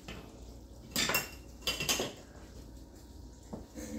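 A utensil scrapes and clinks against the bottom of a pot of braised beef short ribs, two or three short close scraping bursts over a quiet kitchen background.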